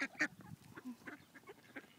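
A goose being fed bread by children lets out several short, faint honks and quacking calls in quick, uneven bursts, heard at a moderate distance.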